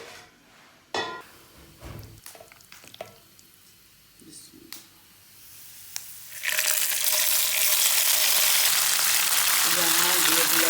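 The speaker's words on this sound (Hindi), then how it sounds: "यहाँ ये भी लग रहा है साग का तड़का।" Garlic tadka for saag hits hot oil in a home kitchen with a sudden loud, continuous sizzle that follows a few scattered clinks and some talking.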